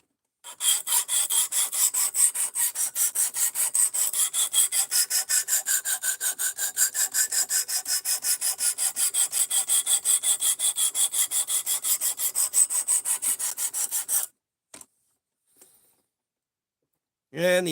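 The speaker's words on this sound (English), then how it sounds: "Yeah, sharpening time, Punisher." A knife blade is drawn repeatedly across a sharpening stone in a fast, steady rhythm of rasping strokes for about fourteen seconds, close and loud, then stops with a couple of faint taps.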